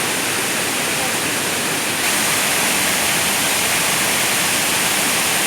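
Kaigal waterfall in Chittoor district roars as a loud, dense, unbroken rush of falling water heard close up, with no clear voices.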